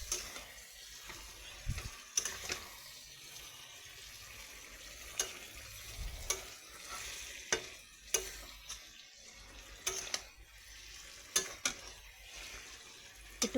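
Pickle fries and sizzles softly in a pan while a utensil stirs it, scraping and clinking against the metal at irregular intervals over a low steady crackle, with no one talking.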